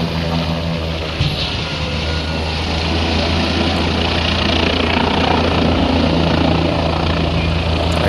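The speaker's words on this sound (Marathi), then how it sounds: "हेलिकॉप्टरमधून धूर निघाल्याने हेलिकॉप्टर पुन्हा तात्काळ खाली उतरवण्यात आला" Helicopter carrying the Rajasthan governor, forced to land after smoke came from it, produces a loud, continuous rotor and engine roar with a steady low thrum and no break.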